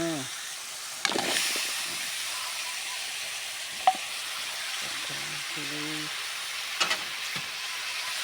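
Pumpkin pieces fry with chicken in a pan for a Thai pumpkin curry, giving a steady close sizzle and hiss throughout, with a few sharp clacks of a spoon and brief bits of voice.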